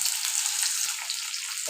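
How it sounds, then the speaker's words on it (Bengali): Onion and nigella seeds (kalo jeere) frying in hot oil as a tempering in a shrimp and eggplant dish, a steady close-up sizzle with crackling throughout, no talking. "তেল দিয়েছি, গরম হয়ে গেছে, কালো জিরে দিয়ে দিচ্ছি। এবারে পেঁয়াজ ফোড়ন দিয়ে দিচ্ছি।"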